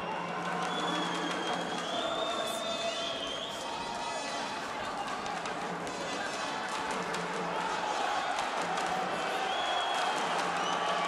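A home crowd at a boxing World Championships men's flyweight quarter-final cheers steadily. The roar swells with whistles and shouts, and sharp punch-like thuds and a commentator's voice come through over it.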